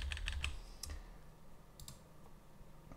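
Computer keyboard typing and clicking in a quiet room, a few sharp keystrokes in quick clusters near the start and again later, faint and without voices.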